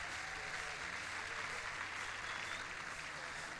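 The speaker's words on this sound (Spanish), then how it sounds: "se merecen un fuerte aplauso de ustedes mismos" A seated audience at a savings-program event applauds itself, a steady, sustained wash of many hands clapping, even in level with no pauses.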